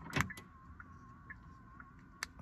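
Door locks of a 2016 Kia Optima actuate from the key fob: a sharp mechanical clunk at the start, quiet gap with a faint electronic tone, then another clunk at the end, heard up close.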